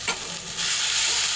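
Tomato, peanuts, onion, garlic and coriander frying and being stirred in a pan for a peanut mash, a soft close sizzle that thickens after a brief scrape.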